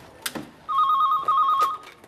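A telephone bell rings in two clear, loud electronic trills, one right after the other, following a brief bit of background speech.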